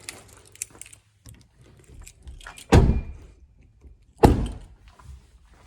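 Ram 1500 Bighorn pickup doors closing, two heavy solid thuds about a second and a half apart, close and loud over quiet rustling and small clicks.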